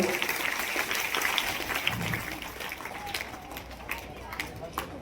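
An audience at a high school gathering applauds a long jump prize winner, a dense patter of clapping that is loud at first and then gradually thins out.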